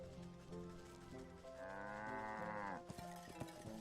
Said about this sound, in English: Oh, there's a moo here.